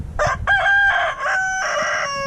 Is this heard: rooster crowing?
yes